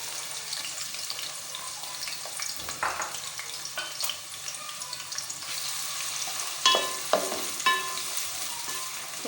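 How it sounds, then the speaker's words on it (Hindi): A cup of onions fries in oil in a pot on its way to light golden brown. A steady close sizzle runs throughout, with occasional louder scrapes and clatters from stirring. "अब एक देगची में मैंने ऑयल ऐड करके अब मैं इसमें प्याज ऐड कर रही हूँ 1 कप"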